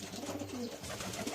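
Pigeons coo in soft, low, repeated calls from close by, over a dense background murmur of the flock, with no voices.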